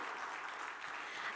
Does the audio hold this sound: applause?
yes